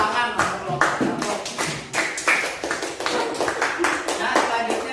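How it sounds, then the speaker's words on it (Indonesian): Students in a classroom give group 1 a round of applause, a close burst of uneven, bright hand claps lasting several seconds, with voices mixed in. "kita beri tepuk tangan untuk kelompok 1"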